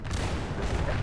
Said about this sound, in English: Yep, jump right into that explosion, Jim.